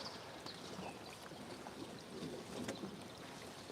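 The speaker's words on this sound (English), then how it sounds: "we have the sound of the ocean, or the sea, I should say, lapping the shore right behind me" Sea waves lap softly at the shore, a faint, steady wash with gentle swells and some wind noise, distant and continuous.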